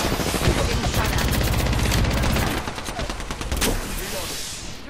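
Rapid automatic gunfire in the video game Apex Legends, a dense, loud, continuous burst of shots that eases slightly partway through, with game effects mixed in and no talking.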